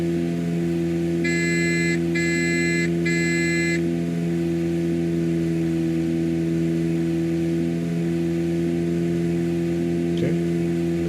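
Cessna 404 Titan twin-engine aircraft in a flight simulator game running on a single engine, a steady loud drone with layered tonal hum throughout, plus a brief beeping alert near the start.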